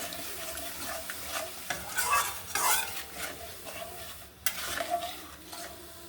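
Paneer curry with whisked yogurt being stirred in a pan, a spoon scraping and clinking against the metal in irregular strokes over a steady close sizzle, with no talking.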